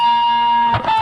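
A distorted electric guitar plays a riff through an effects unit, with a sustained ringing note that breaks into choppy strummed chords near the end, heard alone.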